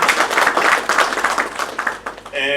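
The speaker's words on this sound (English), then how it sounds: "a big round of applause for our chief guest" A round of applause for a chief guest at a formal morning event, dense and steady crowd clapping close by that thins out near the end, followed by a brief voice.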